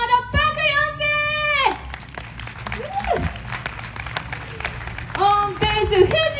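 An audience at a live concert claps for the keyboard player, a scattered round of applause set between a sung or spoken voice at the start and again near the end.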